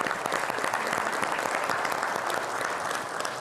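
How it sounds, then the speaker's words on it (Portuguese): Steady, dense applause from the floor of a council chamber during a special session honoring real estate brokers, continuous and evenly loud throughout with no voices over it. "Salva de palmas."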